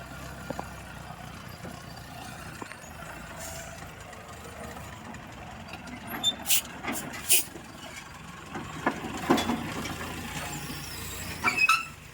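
Code 8 training truck rumbles on a practical driving course, its engine idling and pulling steadily at moderate distance, with a few brief squeaks and hisses toward the end.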